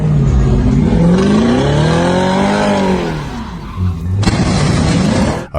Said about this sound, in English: driver starts drifting in a supermarket car park, tires screeching across the tarmac